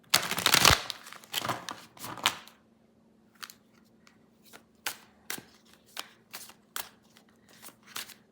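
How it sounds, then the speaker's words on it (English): Large tarot cards shuffled by hand in a quiet room, opening with a few loud riffles and then settling into a steady run of crisp slaps and flicks about twice a second. "These are so big and tricky to shuffle"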